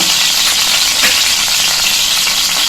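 Asafoetida and cumin seeds sizzle in a spoonful of hot oil for a ridge gourd sabzi, a loud, steady crackling hiss that runs unbroken throughout, close up, with no talk.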